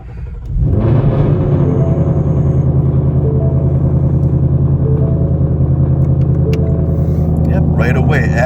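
A Ford Mustang GT S550 V8 engine cold-starts with a sharp crank and catch, then settles into a loud, steady, rumbling idle close by, with brief noises near the end.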